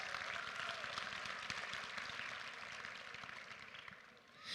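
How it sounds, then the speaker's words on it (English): Audience applause for young performers at a school Class 5 annual day celebration, a dense, steady wash of many hands clapping that holds for several seconds and fades near the end. "A loud applause to our young performers."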